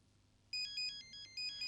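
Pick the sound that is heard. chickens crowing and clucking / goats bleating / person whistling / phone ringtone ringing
phone ringtone ringing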